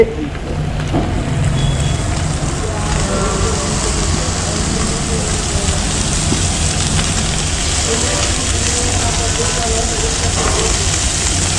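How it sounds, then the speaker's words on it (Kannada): Eggs and cooked blood frying together in a pan give off a steady, dense sizzle that holds at an even loudness throughout. "ಮೊಟ್ಟೆನ ಚೆನ್ನಾಗಿ ಫ್ರೈ ಮಾಡ್ಕೊಂಡ ನಂತರ ಈಗ ಬೇಯಿಸ್ಕೊಂಡಿರುವಂಥ ರಕ್ತನ ಹಾಕೋತಾ ಇದ್ದೀವಿ"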